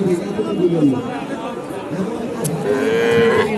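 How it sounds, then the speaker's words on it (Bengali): A cow lows at a busy cattle market in Naogaon, its drawn-out moo rising amid steady crowd chatter and nearby talking voices. "এখানে একটি গরু আছে"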